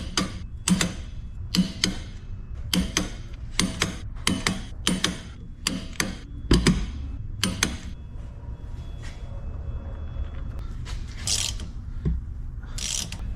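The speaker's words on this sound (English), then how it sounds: "now we should be able to hit all of these with this bigger torque wrench" A large click-type torque wrench tightens the bolts on a Ram 1500 rear differential cover, giving a run of close, regular ratcheting clicks followed by quieter mechanical creaks and ticks, with no voices.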